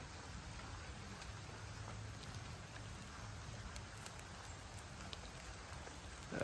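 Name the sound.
rain falling during a hike near a creek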